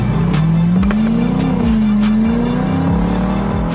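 A modified Lexus IS F launches hard on a bumpy, winding road, its engine note climbing steadily in a loud, close, continuous roar with rapid rising revs and no talk.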